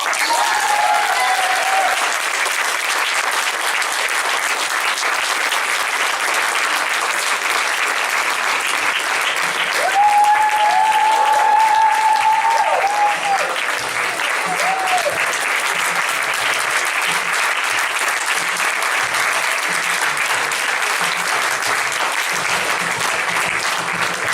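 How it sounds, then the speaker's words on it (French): Audience at an improv show applauding loudly for the MC, a long, sustained roar of clapping with faint cheers and whistles rising briefly midway. "Je vous demande d'applaudir bien fort"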